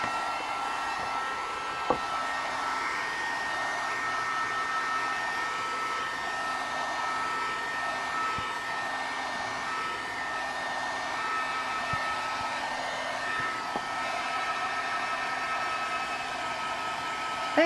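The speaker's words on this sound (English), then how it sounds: "Let me hit this with my heat gun a little bit." A heat gun blows hot air over polymer clay with a constant close whirring hiss that runs unbroken throughout, with a few faint clicks and no talking.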